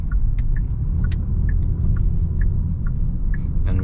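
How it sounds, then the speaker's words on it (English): A tuned 2023 Genesis G70 engine in sport mode gives a steady, close low rumble throughout, with no talk. "Let's go ahead and put this thing in sport mode."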